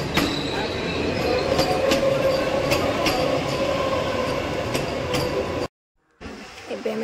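Vande Bharat train rolling into Brahmapur station: a steady, loud rumble of wheels and carriages with sharp repeated clicks and a faint squeal, cutting off abruptly near the end.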